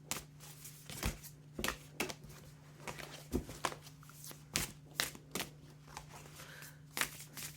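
Tarot cards being shuffled by hand, a series of crisp riffling bursts and soft slaps repeating roughly every half second to second, close and moderately loud over a steady low electrical hum.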